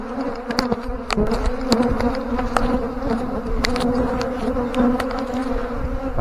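Honeybees buzz loudly and continuously while a brood nest is pulled apart, a dense close-up hum with sharp clicks and knocks of frames scattered across it.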